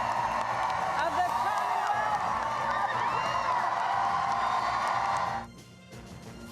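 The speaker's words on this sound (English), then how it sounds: "Fired up crowd there." Fired-up supporters cheer and whoop at a governor-elect's election-night victory speech, a dense roar of crowd noise that holds steady for about five seconds, then drops away abruptly to a quieter murmur.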